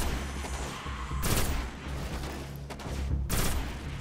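Gunfire in the video game Destiny: two short, sharp bursts of rapid shots, fairly quiet, over a low droning game background.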